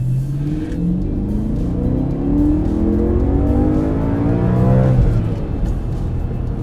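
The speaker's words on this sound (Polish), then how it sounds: "dźwięk silnika V8 jeszcze dodatkowo z... wzmocniony tym wydechem nieseryjnym." A 2008 BMW M3 E90 V8 with a non-factory aftermarket exhaust, engine note rising and falling through revs with a deep steady rumble, fairly close and without talk.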